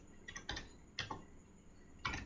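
A computer keyboard is typed on to enter a command, a few soft, close key clicks in a brief irregular burst against a faint background hum.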